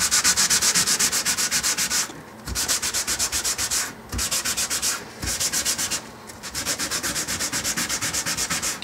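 Sandpaper rubbed back and forth over a Fender Jazz Bass body made in Mexico, with steady rasping strokes close to the microphone, broken by a few short pauses between passes.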